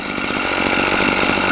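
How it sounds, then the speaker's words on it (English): A gas-powered T-post driver runs at a loud, steady engine roar with a rapid, even hammering pulse, close and continuous with no talk. "you'll get a better hammering action when you're at low or medium throttle"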